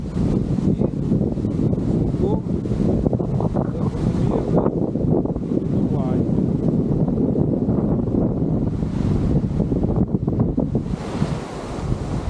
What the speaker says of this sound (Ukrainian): вітер сильний, північний, східний, навал води ми маємо на берег